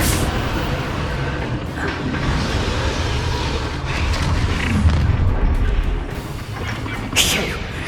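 A Bombarda explosion spell in the video game Hogwarts Legacy sets off a deep, rumbling blast that swells through a dense wash of ongoing combat noise, with a sharper burst near the end.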